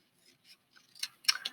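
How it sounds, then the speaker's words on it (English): Scissors snip through paper while cutting it into narrow strips, a few soft crisp cuts close by, quiet and isolated with short gaps between. "I'm going to cut it into little strips."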